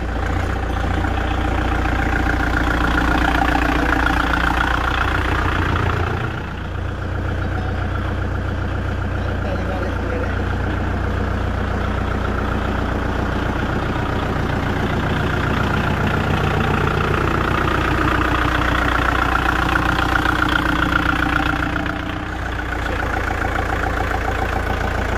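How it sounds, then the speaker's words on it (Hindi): A Kubota MU 4501 tractor engine runs steadily close by, a continuous heavy diesel rumble that dips briefly twice as the revs change, with no talk over it. "कितनी प्यारी आवाज़ है ट्रैक्टर की, जैसे कि बुलेरो की आवाज़ होती है उस तरीके की आवाज़ है"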